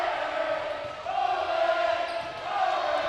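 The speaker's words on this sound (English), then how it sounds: "Crowd gets loud" A high school volleyball crowd in a gym swells into a loud, sustained roar, building and holding for a few seconds with no talk over it.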